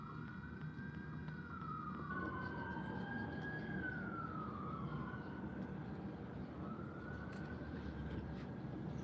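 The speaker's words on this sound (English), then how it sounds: "Hear the sirens?" Distant sirens wail and rise and fall over steady background rumble, faint and far away, overlapping tones sweeping up and down.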